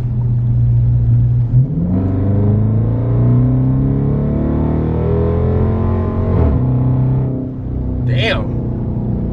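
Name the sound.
2019 Dodge Charger RT accelerating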